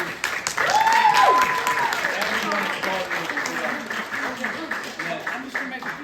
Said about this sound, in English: Once again, big claps for all the filmmakers.